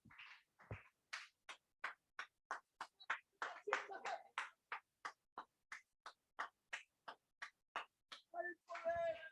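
Church congregation clapping in unison, sharp evenly spaced claps in a steady rhythm of roughly three per second, moderately close, ending with a short burst of voices.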